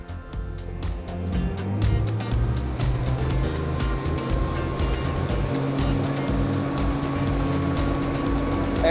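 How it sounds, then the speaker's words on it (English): An Axopar 25 Cross Top motorboat at the edge of the Gulf of Maine accelerates from rest to full throttle, its engine roar swelling into a loud, steady drone with rushing water and wind. "we're gonna take it basically from 0 to full speed, just so that everyone can feel, even through these cameras, what the acceleration's like"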